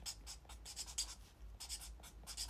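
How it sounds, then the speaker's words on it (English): A pen writes a word on paper, giving short close scratchy strokes in bursts with brief pauses between letters, with no talking. "I'm going to write down shame."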